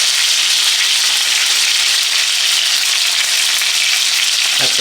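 Loud, steady sizzling of crispy chicken frying in hot oil, a close continuous hiss with no talk.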